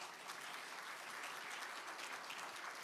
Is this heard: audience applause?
yes